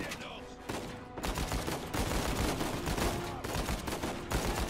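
Heavy gunfire in the video game Uncharted 4, rapid overlapping bursts and shots filling the clip loudly from start to end, with a voice briefly under the shooting.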